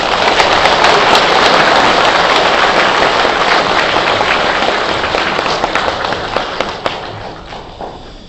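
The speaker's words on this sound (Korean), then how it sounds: "신부님 박수로." An audience at a Catholic Lenten lecture gives a priest a loud, dense round of applause, many hands clapping close and steadily before thinning into scattered claps near the end.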